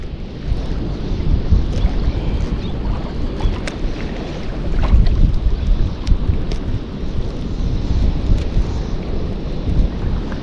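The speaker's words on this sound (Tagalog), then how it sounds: "lumakas lang hangin" Strong wind at sea buffets the microphone in a loud, rumbling roar that gusts and swells without a break.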